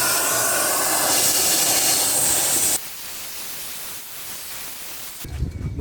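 A household vacuum cleaner runs loud and steady with a broad hiss while cleaning a car, then drops to a quieter, muffled whir partway through, followed by a brief low rumble near the end.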